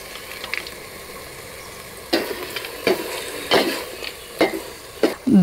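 Spoon stirring jaggery kashi halwa with fried cashews in a pan, a series of close scraping, squelching strokes over a faint sizzle, growing more frequent toward the end.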